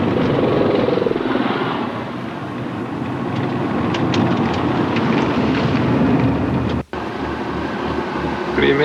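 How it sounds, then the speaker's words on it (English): A military helicopter flies close by, its steady, loud rotor and engine roar filling the scene continuously, with a brief dropout near the end. "It's a military helicopter right down in front of me."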